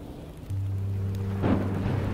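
Steady rain hiss with a low hum in Minecraft: Story Mode, then a soft rumble of thunder swells near the end.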